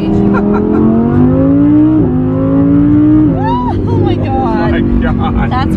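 Engine of a Mercedes AMG GLE 53 SUV revving loudly and steadily, a rising drone that shifts pitch around the two- and three-second marks, with a person's voice breaking in over it near the end.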